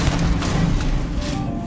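Gunfire in the Starfield video game, a dense rattle of shots under a steady rumble of game noise, sustained and loud throughout.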